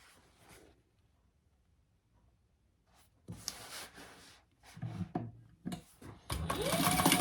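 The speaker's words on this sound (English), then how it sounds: "I just sew along each long edge, leaving the sides open so that I can turn them" A sewing machine runs in short bursts, then in longer stretches, stitching along the long edges of nursery-rhyme print fabric, close and fairly loud with pauses between runs.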